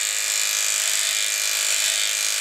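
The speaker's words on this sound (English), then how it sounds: "It looks like you were shaving." Electric clippers shave off a man's beard for Movember, producing a constant, close, high-pitched motor buzz with no breaks and no talking.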